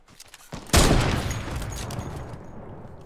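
A loud burst of gunfire in the Fortnite Battle Royale video game erupts after a brief lead-in and decays into a long rumbling tail.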